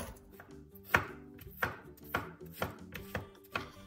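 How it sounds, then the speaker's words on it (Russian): A knife chops a fresh medium cucumber into cubes on a cutting board for a salad, about eight crisp, evenly spaced strikes close by, with no talking. "я нарезаю кубиками."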